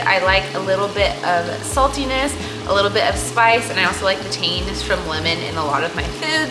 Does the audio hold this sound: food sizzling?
yes